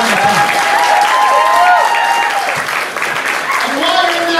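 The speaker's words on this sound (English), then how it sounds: "Give a big round of applause for them." Steady audience applause at a burlesque show in a Richmond gallery, dense clapping and cheering held throughout with voices calling out over it.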